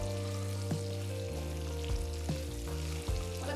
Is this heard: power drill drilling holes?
no